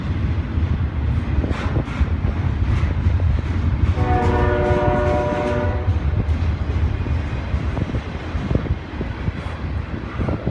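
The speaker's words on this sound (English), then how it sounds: "Amtrak train number 64, the Maple Leaf, right on time." Amtrak train number 64, the Maple Leaf, rumbles steadily past close by with a continuous heavy roar of rolling cars, and a loud multi-tone horn blast sounds in the middle, with wind noise throughout.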